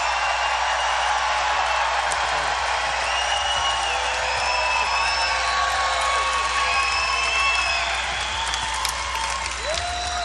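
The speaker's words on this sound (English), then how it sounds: "a big round of applause to the great sheriff of Brevard County" A large crowd at an evening political rally in Melbourne, Florida, applauds and cheers for the Brevard County sheriff, with dense, sustained clapping and scattered whoops filling the whole stretch at a loud, steady level.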